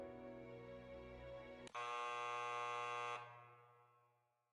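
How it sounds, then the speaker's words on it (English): A loud, harsh electronic buzzer in the Granblue Fantasy video game, starting after a lower tone and holding steady for about a second and a half before cutting off into a fading hum. "The buzzer sounds, and the audience quiets down."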